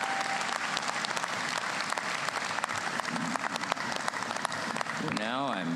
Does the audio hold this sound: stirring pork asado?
no